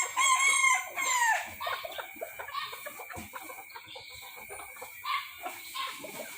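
Gà tre bantam roosters crow loudly and close by, with one clear crow at the start and further calls and clucks from the flock continuing more softly behind.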